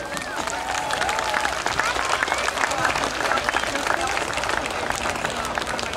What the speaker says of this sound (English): How about a round of applause for the organizers from Pika?